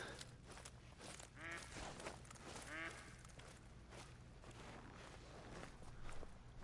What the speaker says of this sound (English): hear all these ducks going crazy